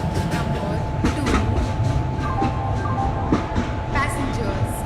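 Mahamana Express, train number 12655, at platform 2 of an Indian railway station, with a steady rumble of railcars and a continuous tone, while a public-address voice and crowd chatter sound over it.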